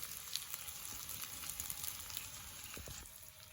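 Onions and potatoes fry in oil with spices for a khoyra fish curry, giving a faint, continuous hissing sizzle with light crackles throughout and no voices.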